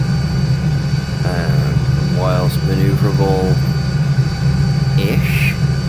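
Steady low turbine drone and rotor hum of an Alouette III SA316B light utility helicopter in Microsoft Flight Simulator, continuous and loud, with someone talking over it.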